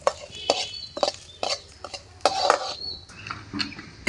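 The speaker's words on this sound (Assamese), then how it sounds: "ইয়াত এতিয়া ভাজি আছেগৈ চাউলখিনি ভালকৈ" Rice stir-fries in a little refined oil in a pan, with rhythmic metal scrapes and clanks of the spatula against the pan about every half second, close and clear over a faint sizzle, with no talk.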